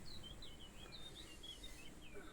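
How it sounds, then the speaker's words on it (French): Early-morning birdsong outside a camper van: thin, high chirps and short whistled phrases, faint and distant over a soft background hiss. "On entend les oiseaux."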